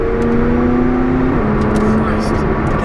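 McLaren 675LT engine accelerating through rapid gear changes, a loud rising drone that drops in pitch at a shift, heard from inside the car under steady road noise with people talking.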